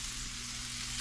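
Quail fries in oil in a pan, giving a steady, close sizzle that stays even throughout the short stretch.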